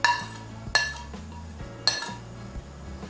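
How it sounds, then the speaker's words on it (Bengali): A spoon clinks against a bowl while chopped tomato, green and ripe chili and coriander are mixed, with two sharp clinks amid steady scraping and stirring, close and alone. "সমস্ত উপকরণগুলো আমি ভালো করে আগে মিশিয়ে নেব"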